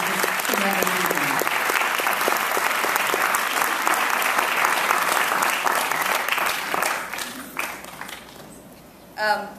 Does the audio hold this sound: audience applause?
yes